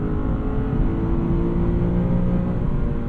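A 2024 Lexus IS500 with its V8 engine pulls hard onto a highway, a steady, loud low rumble and whir filling the cabin without letup and with no talking.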